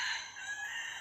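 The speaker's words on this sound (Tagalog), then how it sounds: "Daming manok dito, guys." A rooster crows in a long, sustained high call, fairly loud and clear, with no voices over it.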